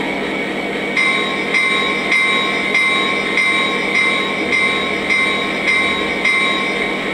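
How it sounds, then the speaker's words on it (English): A Lionel Legacy SD70ACE model locomotive bell, Union Pacific M-K-T "The Katy" heritage unit #1988, rings in a steady, even rhythm, about one clang every half second, over a continuous engine hum. "Here's the bell."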